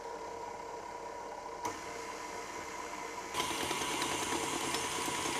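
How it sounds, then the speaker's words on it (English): A stand mixer kneads naan dough on low speed, giving a steady mechanical whir that steps up louder twice as the motor changes. "Now I'm going to let the mixer do the work. So just pop it onto low speed until the dough comes together"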